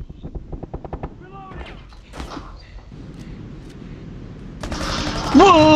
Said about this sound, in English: I'll shoot the bottle of wine.